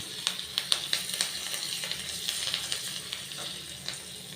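A sprig of curry leaves hits hot oil for tempering dal khichdi and sizzles, with sharp crackling pops early on that settle into a softer, steady frying hiss.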